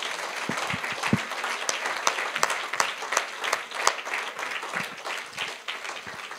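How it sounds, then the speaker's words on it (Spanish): A standing church congregation claps for the Lord after the sermon, a moderately quiet, uneven patter of many hands with sharp individual claps popping out of the wash, steady and without voices. "Demos un aplauso al Señor por su palabra"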